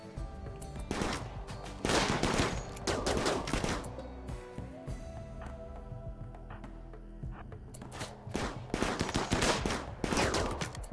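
Gunfire in a RimWorld colony fight: rapid volleys of loud, sharp shots crackle in bursts with brief lulls between them. Near the end a second dense flurry of overlapping shots follows the first.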